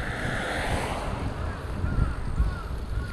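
Waves wash steadily onto Tsubakiyama beach on the Natsudomari Peninsula in Aomori, a constant surf hiss mixed with wind buffeting the microphone.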